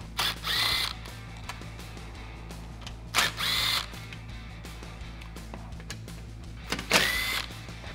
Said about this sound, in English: I'm gonna use a combination of a clip removal tool and a 7mm socket on my impact to remove the four screws